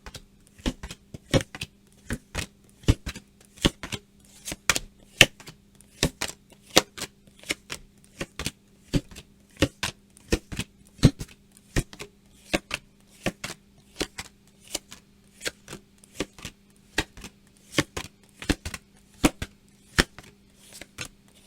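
Tarot cards are shuffled and laid down one after another in a steady run of crisp, sharp snaps and flicks, close and clear over a quiet background, with no talking.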